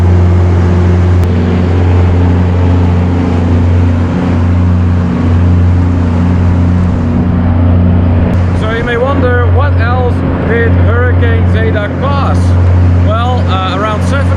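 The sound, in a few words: emergency power generator running after hurricane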